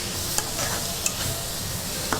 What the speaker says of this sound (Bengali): তবে তার আগে কুমড়োটাও একটু ভাজতে হবে